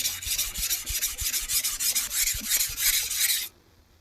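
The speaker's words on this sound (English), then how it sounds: "Once I'm done with a lot of the rough sanding like this, and I'm ready to do the final sanding" A yanagiba sushi knife blade is rough-sanded with quick, steady back-and-forth rasping strokes, loud and close, stopping abruptly after a few seconds.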